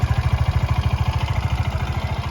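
A fuel-injected Yamaha Fino scooter engine, still without its CVT fitted, idles while warming up. It gives a close, steady, fast-pulsing putter with a light mechanical clatter.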